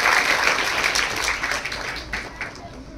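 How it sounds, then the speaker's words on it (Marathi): An audience at a school admission welcome ceremony claps heavily, with the applause strongest at first and thinning out while a voice speaks over it. "एकदा जोरदार टाळ्या वाजवूयात"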